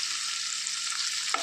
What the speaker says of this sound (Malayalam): ഇനി നന്നായിട്ടൊന്ന് ഇളക്കി യോജിപ്പിക്കുക